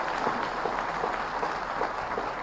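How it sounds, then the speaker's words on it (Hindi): A ceremony audience claps to welcome a guest of honour at a birthday celebration, a moderate, even spread of many hands clapping with faint rhythmic peaks, heard from a distance. "जोरदार ताली बजाकर इनका स्वागत करें"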